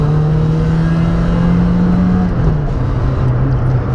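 A Citroën Saxo Rally 2.0 engine pulls hard and loud from about 2000 rpm in second gear, a droning note rising slightly over four seconds, with constant road and wind roar and no talking.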